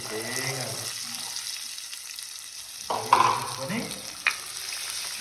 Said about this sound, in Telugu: ఈ అల్లం పేస్ట్ పచ్చిమిర్చి ఇవన్నీ వేసాం కదా ఇట్లా మంచిగా ఉడికించుకోవాలన్నమాట